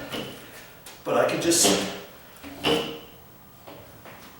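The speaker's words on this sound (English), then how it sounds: "tilt it back and forth like that, get it back into place." A hollow-core interior door rocked back and forth on its hinges, giving two short wooden knocking and scraping bursts close by, with someone talking over the movement.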